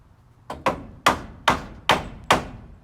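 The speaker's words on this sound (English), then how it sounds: "get the hammer here." A hammer strikes wood six times with sharp, hollow knocks, the first two close together and the rest at a steady, unhurried pace.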